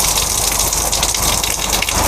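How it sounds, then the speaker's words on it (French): Water sprays steadily from a bamboo shower pipe pierced with small holes, making a loud, even, close hiss of fine droplets pattering down without pause. "ça c'est un bambou qui est percé de petits trous, ce qui nous permet quand on ouvre le robinet d'avoir"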